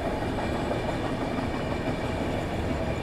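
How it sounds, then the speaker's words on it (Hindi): A train runs along the Delhi line near Jhansi railway station, giving a steady, loud rumble of rolling wagons throughout, with no speech. "दिल्ली लाइन पर कोई ना कोई ट्रेन पड़ रही है यहाँ पर।"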